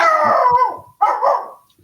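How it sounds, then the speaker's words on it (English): A dog lets out two loud, close howling barks in quick succession, the first drawn out and falling, the second shorter, with no talk over them. "Oh, is that your dog?"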